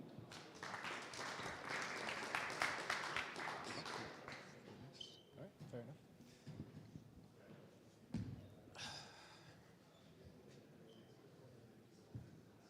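Conference audience applauding a presenter at an AGI summit, a few seconds of steady clapping that fades into scattered sounds and a voice.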